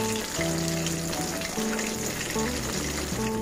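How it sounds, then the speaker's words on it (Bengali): Chicken pieces for chicken manchurian fry in oil with a steady, close, dense sizzle that runs throughout, while soft tonal music plays underneath. "হালকা ব্রাউন করে ভেজে নিতে হবে, খুব বেশি ভাজা যাবে না।"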